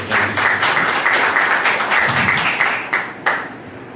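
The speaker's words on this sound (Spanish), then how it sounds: "el maestro Walter Martín Arellano Torres, a quien yo le pido de brindarnos un caluroso aplauso." Audience applause at a public forum on plebiscite and mandate revocation, steady loud clapping from a crowd that carries on for several seconds before tapering off with a few last claps.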